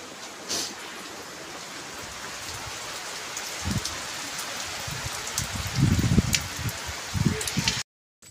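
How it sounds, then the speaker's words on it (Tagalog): Heavy rain pours steadily near the sea, a dense continuous hiss of drops on surfaces, with a few louder gusts and splashes midway and low voices under it before it cuts off abruptly at the end. "Malakas na may ulan."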